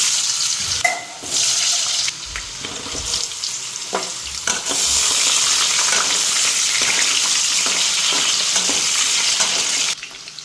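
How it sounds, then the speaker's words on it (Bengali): Potatoes fry in hot oil in a kadai wok, giving a loud, continuous close sizzle, with some clattering stirring near the start and no talking. "কড়াইতে একটু তেল দিয়ে দিছি আলুগুলি ফ্রাই করে নিচ্ছি"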